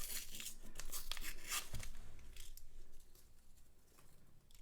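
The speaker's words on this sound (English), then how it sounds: "this is the way I have to open these rolls when this paper doesn't tear nicely" Close-up tearing and crinkling as someone rips open the stubborn paper wrapper of a roll of half-dollar coins. Quick ragged bursts come first, then softer rustling and handling, with no speech.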